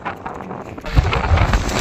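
Gusty cyclone wind roars and buffets loudly, a low rumbling blast that swells midway and keeps blowing, with no talking.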